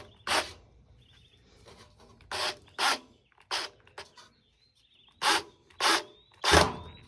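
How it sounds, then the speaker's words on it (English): A drill drives a screw into wood in short, sharp bursts, about seven separate spurts with quiet gaps between, close by and unaccompanied by speech. "I'm going to do short little bursts with my drill."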